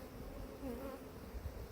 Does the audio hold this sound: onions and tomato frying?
no